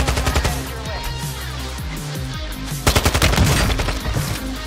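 Rapid automatic gunfire in Call of Duty Warzone 2, loud bursts of shots crackling over a busy game soundscape, with a denser, louder volley in the final seconds.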